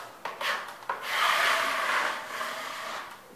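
A trowel scrapes and smooths joint compound across a water-damaged ceiling repair, feathering the edges: a few short rasping strokes, then a longer continuous drag, close and fairly soft, with no talking.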